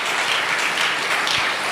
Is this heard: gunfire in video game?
no